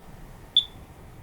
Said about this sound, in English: A single chirp every 30 to 60 seconds indicates a low battery that needs replacing.